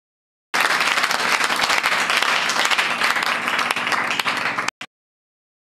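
A church congregation bursts into loud, dense applause after a sermon reading, many hands clapping at once in a sustained roar that stops abruptly, with a brief clap afterward.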